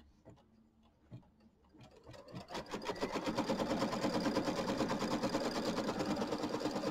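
An embroidery machine stitches a fabric placement line, starting with a few sparse, uneven stitch taps and then settling into a steady, loud, rapid mechanical chatter that runs to the end.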